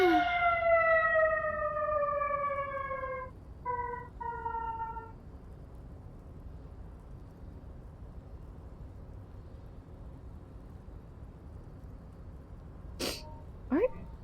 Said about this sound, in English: a siren had to go through my house really quick